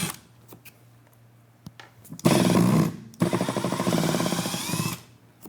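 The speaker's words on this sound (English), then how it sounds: "We have our Milwaukee Surge with a number 2 drill bit, driver bit here. We're gonna back these out." A Milwaukee Surge impact driver fitted with a number 2 driver bit backs screws out in two loud, close bursts of buzzing, rattling impacts, separated by a short pause.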